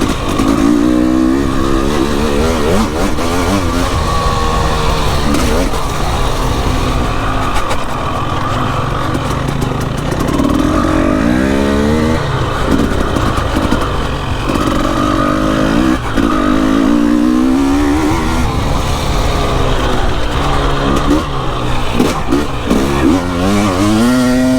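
Enduro motorcycle lapping a slippery, rain-soaked course, its engine loud and close throughout, revving up and dropping off repeatedly as the rider works the throttle through slick braking zones.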